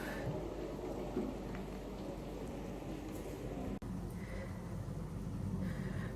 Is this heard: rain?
yes